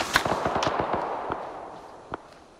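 Arma 3 gunfire crackles in a rapid burst of sharp, fairly close shots, then thins to a few scattered reports.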